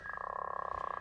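A chimeric Xenopus laevis frog, grown from two laevis embryos, sings a rapid, buzzing trill of evenly spaced clicks merging into a continuous drone, heard alone for about a second.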